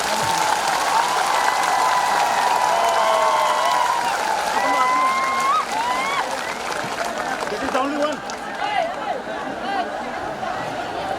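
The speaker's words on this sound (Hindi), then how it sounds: "सबसे बड़ा ताली आपको होना चाहिए" Audience applause and cheering from a crowd, with steady clapping sustained for several seconds under a spoken voice and chatter, then fading toward the end.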